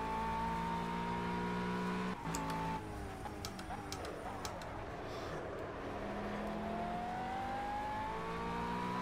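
McLaren race car engine in the racing game Project CARS, a loud sustained whine rising and falling through gear shifts, with a brief dip near two seconds and steady high revving throughout.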